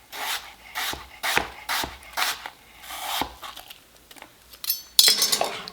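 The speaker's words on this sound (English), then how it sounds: "Then I just take my apple and I slice it up." A knife slicing through an apple, making a series of about seven crisp, rasping cuts in an uneven rhythm, close and alone, ending with a brighter scrape.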